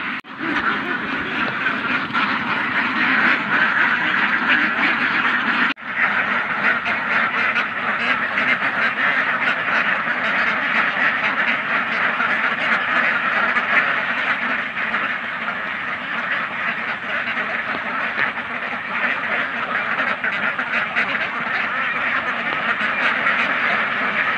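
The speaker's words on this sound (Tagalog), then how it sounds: "kita nyo naman yung mga alagang itik po natin mga kabebe" A large flock of domestic ducks, kept as raised ducks in the late afternoon, quacks continuously and loudly in a dense, unbroken chorus from many birds close by.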